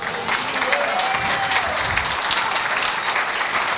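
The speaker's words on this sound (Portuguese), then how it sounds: "Pode aplaudir, que é para o Senhor." A church congregation applauds during a sermon, a sustained, even burst of many hands clapping at moderate volume, with a faint voice briefly rising beneath it.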